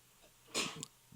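A single sharp sneeze from a man, brief and close, bursts out of an otherwise quiet moment.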